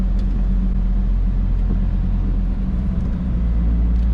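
Steady low road rumble and tire noise heard from inside the cabin of a 2014 Smart Fortwo while driving, constant and fairly loud with no talking.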